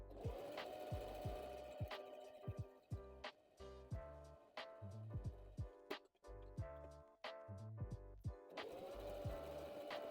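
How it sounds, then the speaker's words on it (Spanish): A home sewing machine stitches fabric in steady mechanical bursts, pausing briefly between runs as the presser foot is lowered and sewing resumes, close and clear with no talking. "voy a continuar cosiendo"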